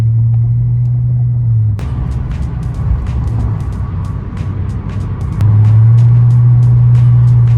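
A Lexus IS250's engine and aftermarket axle-back exhaust rumble steadily from inside the car while driving, deep and continuous, swelling louder near the end.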